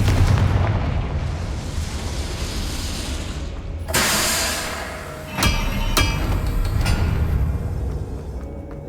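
Confringo blasting-spell explosions in the video game Hogwarts Legacy, a booming burst followed by sharp cracking impacts over a rumbling, busy game background.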